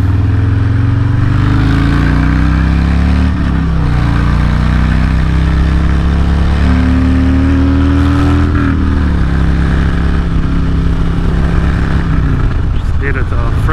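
A Harley-Davidson Road Glide Special rides through traffic, its engine rumbling loud and close with rising and falling revs as it maneuvers, while a rider talks over the steady drone and wind.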